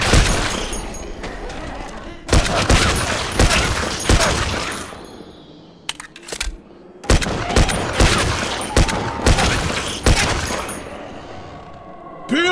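Gunfire in the video game Left 4 Dead 2, played on an expert custom campaign: loud, rapid bursts of shots in several volleys with brief lulls between, close and sharp, with clattering impacts.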